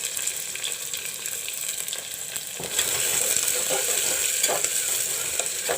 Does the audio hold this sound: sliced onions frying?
yes